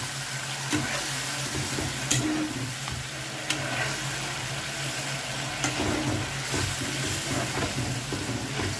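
A pan of sour yogurt being stirred and mixed over heat for doi katla, with a steady low sizzle and soft scraping strokes running throughout, plus a few sharper clinks of the utensil against the pan.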